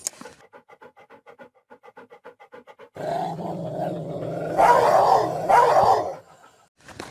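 A dog growls low and rough, then bursts into louder snarling and scuffling, after a series of short rhythmic pants at the start.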